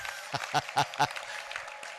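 A brief burst of hand clapping at a wedding, several quick claps in a row that fade out within about two seconds.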